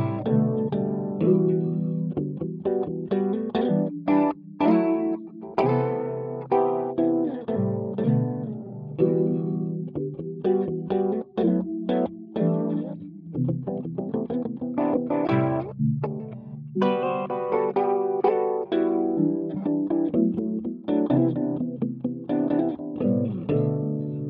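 A Neural DSP Multivoicer effect played via MIDI keyboard in FL Studio, producing thick layered harmonized chords with a continuous, full, processed sound that shifts through changing notes.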